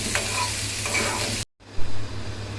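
Ingredients for Afghani Kabuli pulao sizzle in a frying pan with a steady crackling hiss and occasional stirring scrapes, cut off briefly by a gap before a quieter, duller sizzle resumes with a low hum.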